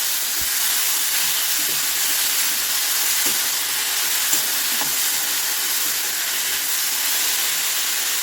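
Vegetables being sautéed in a pan in a home kitchen give a steady, fairly loud sizzling hiss that runs unbroken, with a few faint clicks and no talking.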